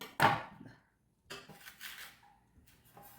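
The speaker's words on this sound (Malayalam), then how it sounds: "അരിഞ്ഞു സൂപ്പറായിട്ട് അരിഞ്ഞു കേട്ടോ" Ponnamkanni spinach greens being chopped on a board for a thoran, one loud sharp knife strike followed by a pause and then a run of softer, irregular chopping and scraping noises close by, with no talking.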